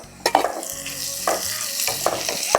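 Chopped onion, green chillies and ginger fry in a pan with a bright sizzle, punctuated by a few sharp spatula scrapes and clinks in a loose rhythm, close up and without speech.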